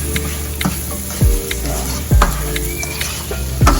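Ground beef sizzling and sautéing in a pan for lasagna, with a steady fry hiss and several loud stirring scrapes and knocks of a utensil against the pan.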